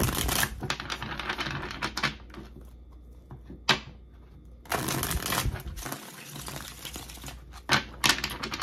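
Tarot cards being taken out and shuffled, heard as quick papery riffles and rustles in bursts with short pauses, close and moderately loud, with no talking.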